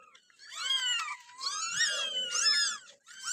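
Newborn kittens and their mother cat in an office, high wavering meows repeating close by in a continuous overlapping string, with a faint low murmur underneath.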